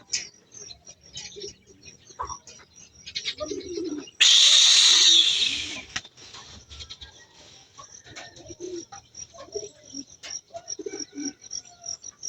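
Pigeons coo softly and intermittently close by at an open loft, interrupted by a burst of rushing, fluttering noise like wings before the gentle cooing resumes.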